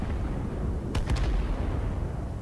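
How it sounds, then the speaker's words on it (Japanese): Two or three quick gunshots from the video game Knives Out crack in rapid succession at a distance over a constant low rumbling background. "敵がいないかどうか、まずね、銃声を聞くということですね"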